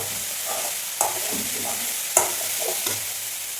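Beans thoran with grated coconut stir-fried in a pan: a steady sizzle with a few sharp scrapes and clinks of the spoon against the pan, no voices.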